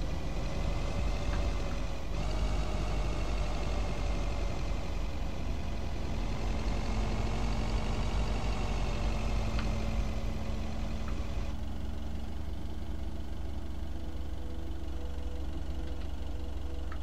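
A truck engine in the video game Lake drones steadily at idle and while driving, a constant low rumble that shifts pitch a couple of times, with no talk.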